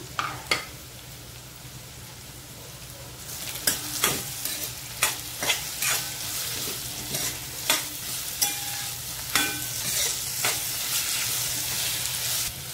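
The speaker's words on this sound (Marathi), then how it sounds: "हिरवी शिमला मिरची टाकते आता" Green bell pepper stir-fries in a hot pan for chilli paneer, a steady close sizzle punctuated by regular scraping strokes of the stirring spatula.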